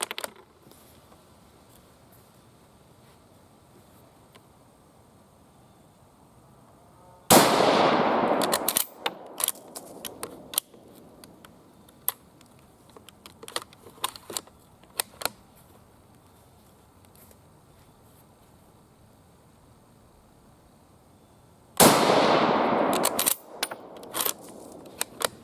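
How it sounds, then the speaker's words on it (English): Japanese Type 38 cavalry short rifle fired in a group of shots, each a loud sharp report with a ringing tail, widely spaced among quieter handling clicks and rattles. "Alright, we're going to load up another 3 rounds and see how this groups."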